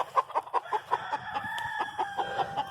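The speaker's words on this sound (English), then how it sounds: "a George Wood roundhead rooster" A George Wood roundhead gamefowl rooster of the old McClanahan bloodline clucks in a rapid series of short, evenly spaced calls, then breaks into a drawn-out crow, fairly close and clear with no talking.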